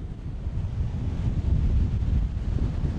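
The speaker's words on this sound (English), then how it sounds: "It's a bit windy." Strong wind buffets the microphone on a coastal cliff in Malta in a continuous low roar, with faint surf-like rushing underneath.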